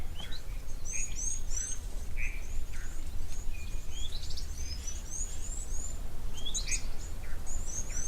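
Birds call at an African waterhole, Egyptian geese and yellow-billed storks among them, with many overlapping high chirps and whistles over a steady low ambient rumble, fairly clear and continuous.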